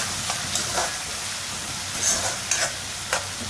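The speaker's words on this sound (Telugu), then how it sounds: "పచ్చిమిరపకాయలు, టమోటాలు, ఇవి బాగా వేగాలి." Green chillies and tomatoes frying for a methi chaman curry give a bright, continuous sizzle with several soft scraping stirs, loud and close with no talking.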